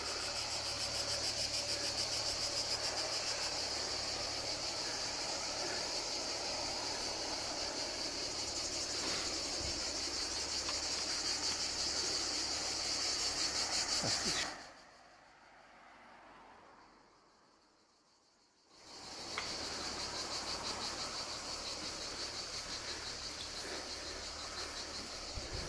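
Cicadas drone steadily in a sunny outdoor setting during a weekend bike ride, a dense, continuous buzzing that drops out abruptly for a few seconds midway before resuming at full strength.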